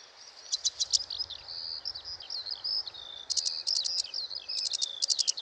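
A Sedge Warbler sings a long, excited song of rapidly changing jerky notes and buzzy trills, clear and fairly close, with brief pauses between bursts over faint low background rumble.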